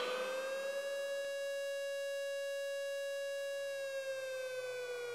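A civil defense siren holds a steady, piercing wail with a slight rise and fall in pitch, sounding continuously and alone.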